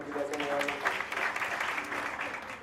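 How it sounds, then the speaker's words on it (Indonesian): Church congregation applauds steadily at moderate loudness, with voices and faint music mixed in beneath the clapping. "Beri tepuk tangan untuk teman-teman kita semua."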